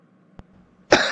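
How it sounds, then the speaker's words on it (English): A single short throat clear or cough, brief and fairly loud, after a faint click in near silence. "You don't have to clear your throat"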